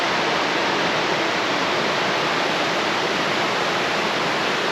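Waterfall and creek water at the Arkansas Grand Canyon, pouring from a cave at Big Cave Creek Falls, a steady broadband rushing roar that fills the whole stretch without pause, close and fairly loud, no voices.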